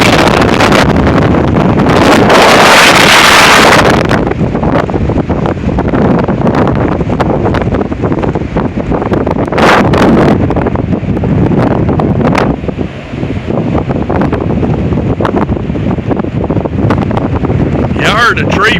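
Strong windstorm in Oklahoma with gusts over 60 mph, loud roaring buffeting against the microphone in surging waves, with a particularly violent blast early on and a voice speaking at times.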